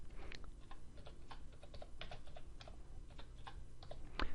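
A computer keyboard is typed on in short irregular runs of light clicks, close and fairly quiet, with a sharper tap at the end.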